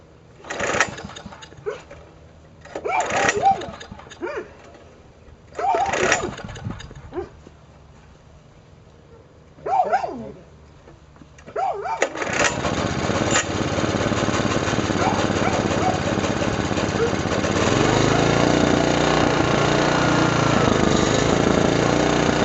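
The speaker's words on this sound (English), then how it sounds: "engine running." A generator engine pulled from the trash starts after several short sputtering cranks and coughs, then settles into a loud, steady, buzzing run that continues to the end.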